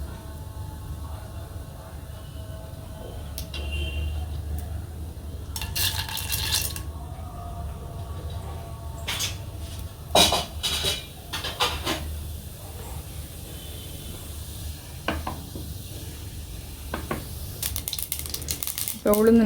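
Mustard seeds splutter in hot oil for a bottle gourd curry, with irregular sharp crackles and pops over a low hiss that grow busier toward the end, while someone talks.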